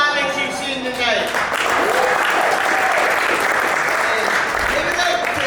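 A comedy show audience at a small venue in Sterling, VA breaks into loud, sustained applause and cheering that fills the room. A voice speaks over the clapping at the start.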